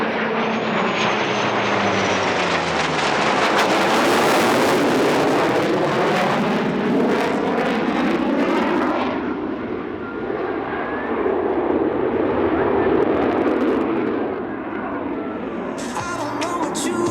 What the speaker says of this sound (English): Beautiful F4U Corsair.